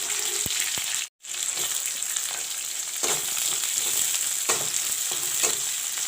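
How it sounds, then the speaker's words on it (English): Onions and chopped garlic fry in a pan for a palak recipe, giving a steady close sizzle with occasional stirring scrapes and one very brief cut-out near the start. "Let the onions fry brown."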